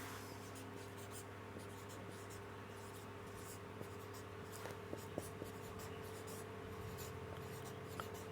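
A pen writing out a physics definition of a velocity profile in viscous flow, faint continuous scratching with a few small ticks over a steady electrical hum, quiet and close.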